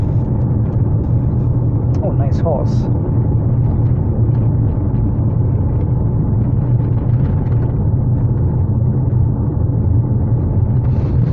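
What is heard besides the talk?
car tyres on rough new asphalt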